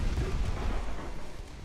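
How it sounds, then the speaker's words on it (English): A torpedo strikes a ship in a naval warfare game, producing a deep, rumbling explosion roar that holds loud and low throughout with no clear onset. "Gorge took a torpedo, boys."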